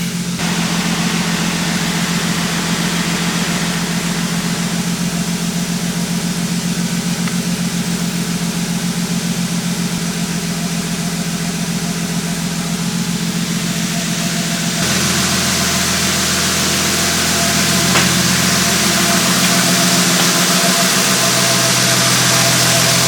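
A Toyota Supra MK4 with a secondary injection system that is leaking fuel runs at a steady idle, a loud continuous engine drone with a shift in tone partway through and no talking.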